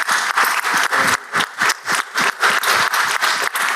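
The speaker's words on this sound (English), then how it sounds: "give them a big round of applause" Applause breaks out in a state Senate chamber for visiting high school seniors and their principal, a dense, steady round of clapping from a roomful of people with a slightly uneven rhythm, heard alone without voices.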